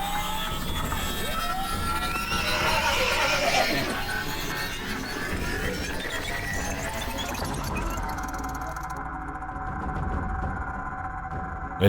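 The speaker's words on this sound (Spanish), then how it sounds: "El caballo chilló cuando inició la caída libre" Sound-effect horse neighing as it plunges into free fall, a strained, wavering whinny mixed with whooshing and rumbling effects, fairly loud, fading into a lower steady drone in the final seconds.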